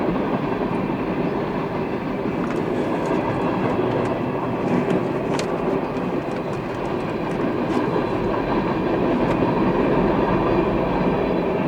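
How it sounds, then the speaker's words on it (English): A big, heavy old CSX freight train rolls past close by in a blizzard, giving a loud, continuous rumble with rhythmic wheel clatter and faint metallic squeals throughout. "Big, heavy, old freight train."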